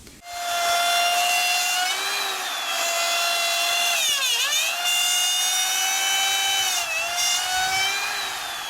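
A Jasper 200 router jig cuts a small speaker hole in 6 mm MDF. The router gives a loud, high-pitched whine, and its pitch dips and wavers as the bit bites through the board.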